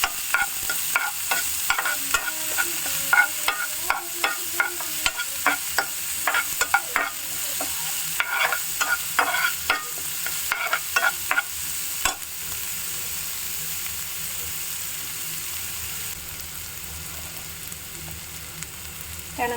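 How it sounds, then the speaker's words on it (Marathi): Onions frying in oil in a pan for masala oats, a constant close sizzle broken by repeated sharp scraping taps of a spoon stirring, with no talking. "हे छान मिक्स करून घेऊया"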